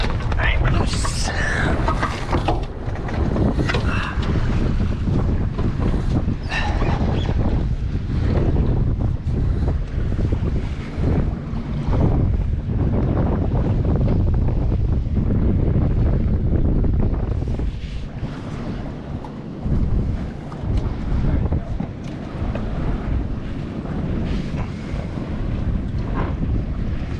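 Heavy wind buffeting the microphone aboard a sailboat in Portland Harbor, Maine, in fall, a loud continuous roar with some water noise, and people talking partway through.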